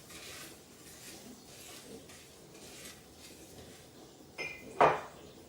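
Sugar is stirred into dry ingredients in a bowl for a German käsekuchen, making soft, rhythmic scraping strokes, followed by a couple of sharper clinks near the end.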